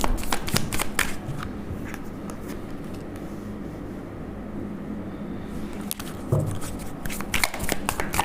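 A deck of cards being handled and shuffled during a card reading, with close riffling bursts at the start and end and softer handling in between, with no talk.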